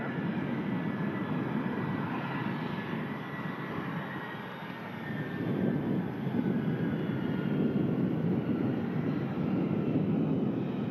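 An airliner arriving at Manchester Airport gives a continuous broad engine roar that holds steady, swelling slightly midway, heard from a distance and without talk.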